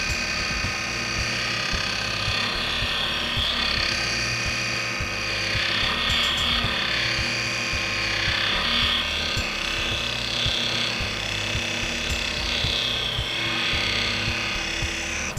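A wooden piece is tapered by hand at the lathe, producing a steady run of rasping, scraping strokes with a repeating mechanical rhythm, close and fairly loud throughout, with no voices.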